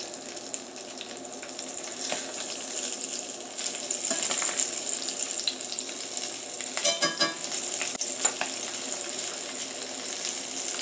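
Pork belly sears in a pan with a steady, close sizzle and crackle of fat running throughout, with a brief burst of louder spattering partway through and no voices.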